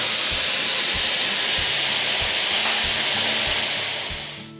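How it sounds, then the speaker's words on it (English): A spray gun blasts gel coat onto a fibreglass esky mould, a loud continuous close hiss of compressed air and spray, with a faint rhythmic low knocking underneath, fading out at the end. "Seeing the gel coat get sprayed on was one of the parts that I was waiting for the most."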